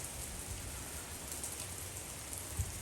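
Steady, dense hiss of heavy hurricane rain with a low wind rumble, constant throughout with no voices, in Florida.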